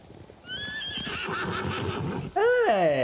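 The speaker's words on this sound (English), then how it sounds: "Scared off the horses." Samurai war horses whinny in Ghost of Tsushima, a neigh in the first half over background game sounds and rustling, then a louder, closer drawn-out whinny near the end.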